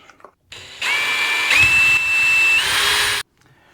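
A DeWalt power drill whirs loudly at close range for a couple of seconds drilling screw holes in a Fender Telecaster, pitch rising and shifting as it bores in, then stops.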